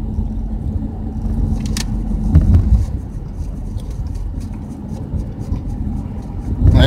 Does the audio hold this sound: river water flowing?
no